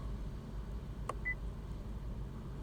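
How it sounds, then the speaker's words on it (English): A single short electronic beep from a Vauxhall Viva dashboard during an oil service reset sounds once, quiet and close, against a low steady engine hum. "1 beep."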